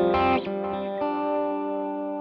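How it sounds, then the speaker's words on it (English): Overdriven electric guitar chords through a Matchless DC30 amp played with a tape delay effect, notes repeating and smearing into a sustained, echoing wash. "a tape delay."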